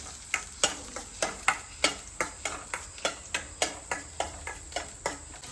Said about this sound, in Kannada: ಆನಿಯನ್ನ ಹಾಕ್ಕೋಬೇಕು. ಆಮೇಲೆ ನೀಟಾಗಿ ಫ್ರೈ ಮಾಡ್ಕೋಬೇಕು.